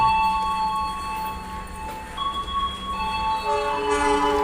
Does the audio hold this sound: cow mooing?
no